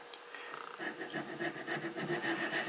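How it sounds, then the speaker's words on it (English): A fret file cuts a slot in a bone guitar nut, making close rhythmic rasping strokes, quiet at first and then steady back-and-forth filing of even strength. "kind of want to lean the fret file a little bit so it goes a little bit in that direction"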